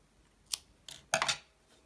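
Scissors trim excess knitting yarn from a hand-knit plus-size ruffled women's sweater, giving three quick, crisp snips close by in an otherwise quiet room.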